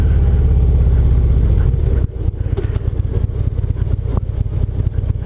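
A motorcycle engine drones loud and close, then the throttle rolls on and the exhaust note rises into a steady, pulsing roar on the first ride of the year.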